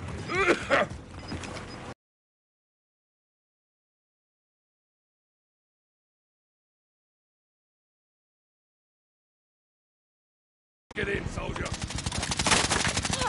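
Automatic and single gunshots from a Modern Warfare Warzone match, a loud burst at the start and a dense rapid volley at the end, with a long silent gap between them.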